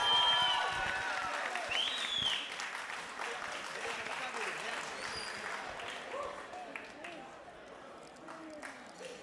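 Guests applaud at a Jewish wedding ceremony right after the ketubah is handed over, a moderate burst of clapping and cheering that fades over several seconds beneath an officiant's voice.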